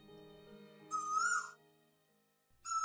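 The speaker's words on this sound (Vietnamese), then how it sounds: "Đã qua hè, tới giữa thu mà con tu hú ở đâu cất tiếng kêu đêm, nghe não ruột." At night an Asian koel gives two clear whistled calls about a second and a half apart, fairly close, over a quiet background with a faint low steady hum.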